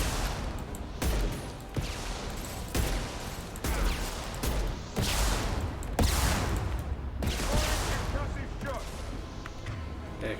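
Hand cannon gunfire in the video game Mass Effect 2, a series of sharp, heavy shots at a steady spaced rhythm amid other combat noise, with a voice talking over it.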